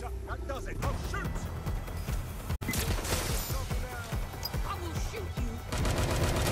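Rapid gunfire rattles in the Watch Dogs Legion video game as enemies are shot, a near-continuous stream of loud shots with brief pauses, mixed with game effects and voices.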